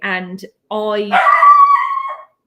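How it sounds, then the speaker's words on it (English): A dog at close range gives two loud barks: a short one, then a longer howling, whining bark. A voice speaks briefly nearby. "sorry about the dog."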